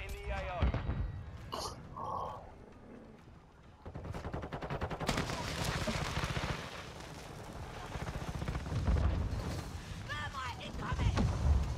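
Enemy gunfire in the video game Call of Duty: Modern Warfare II, dense crackling bursts of shots that build and keep going under voiced callouts and game chatter.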